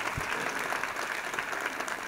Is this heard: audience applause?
yes